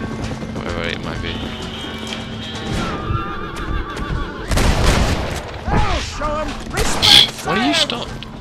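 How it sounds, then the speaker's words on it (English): Horses neigh and whinny loudly several times in the Red Dead Redemption video game, with clip-clop hooves and creaks mixed in, while a player talks over the game sounds. "There's so many horses."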